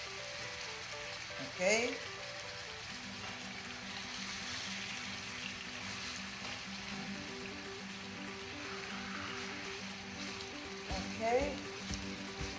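Fries and pork frying in a pan for a pork sandwich, a steady broad sizzle running throughout with a couple of brief louder clatters, while a voice speaks briefly over it.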